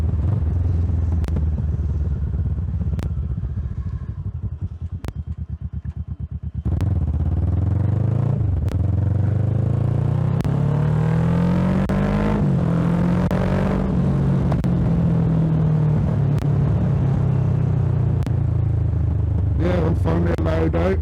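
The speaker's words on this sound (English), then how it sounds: "I think I might have an exhaust leak because it sounded slightly funny and it's popping and banging more than usual." Motorcycle engine with a suspected exhaust leak, popping and banging more than usual, heard on a ride: sharp irregular cracks over a rumbling engine that builds into a rising rev, close and loud, with wind noise.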